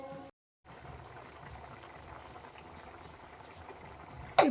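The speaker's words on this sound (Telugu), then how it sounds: "ఇప్పుడు కొద్దిగా మరగనిద్దాము." Taro root curry simmering in tamarind juice in a pot gives a steady soft bubbling and hiss, close and moderate, after a brief gap of silence near the start.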